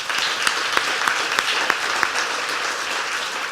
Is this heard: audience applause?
yes